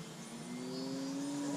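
Electric motor of a foam board RC biplane at full throttle, a steady rising whine that grows slightly louder across the short stretch, heard alone.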